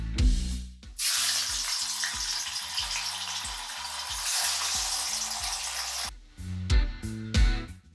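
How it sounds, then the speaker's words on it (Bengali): Paneer pieces dropped into hot oil burst into a loud, hissing sizzle lasting several seconds, framed by brief clinks and scraping of a utensil before and after. "আমি এখানে তেল গরম করে নিয়েছি। সবার প্রথমে আমি পনিরগুলোকে এখানে ভেজে নেব।"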